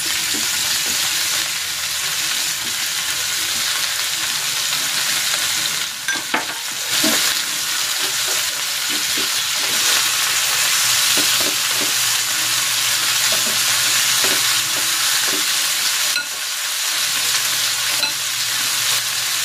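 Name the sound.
onion frying in a pan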